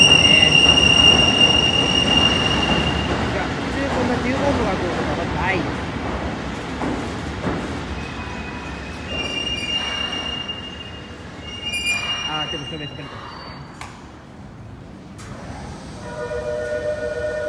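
A train rumbles along with high, sustained wheel squeals ringing over the noise, gradually easing as it moves away, with occasional voices, at Higashi-Narita Station, Japan.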